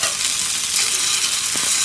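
Fish fingers fry steadily in a pan, a dense, continuous sizzle with a few light stirring scrapes as they are turned, close and fairly loud with no talking.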